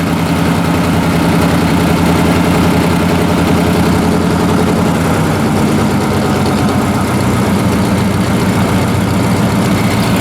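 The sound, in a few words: tractor engine started and idling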